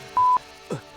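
Two sharp telephone keypad dialing tones, one held about a fifth of a second and a shorter one just after, then a brief low voice-like murmur, all close and clean.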